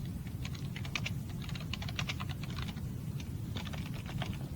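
Rapid, uneven clatter of keys on a computer keyboard, soft and close, in bursts with brief pauses, no voices over it.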